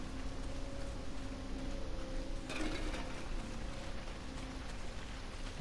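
Rain falls in the Days Gone video game as a steady, soft hiss with a brief louder splash of noise partway through, under a faint low hum.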